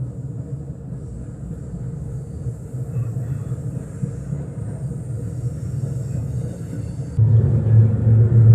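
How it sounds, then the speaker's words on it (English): A freight train rolls alongside a moving Southwest Chief passenger train, a continuous low rumble and rattle that swells louder near the end. "There's a freight train next to us."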